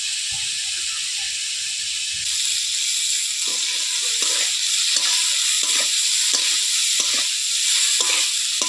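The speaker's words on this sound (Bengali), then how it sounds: "ফুলকপিগুলো লাল করে ভেজে নিয়েছি এবার তুলে নেবো" Cauliflower florets frying red in a pan, a close, steady hiss and sizzle with a regular series of scraping stirs running through it, no voices.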